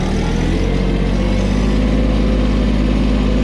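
A 2023 Mahindra 1626 shuttle tractor engine running loud and steady on a dirt road, with a dense continuous low rumble and no pauses throughout.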